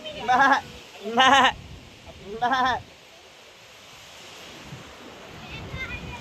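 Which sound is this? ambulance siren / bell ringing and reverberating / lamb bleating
lamb bleating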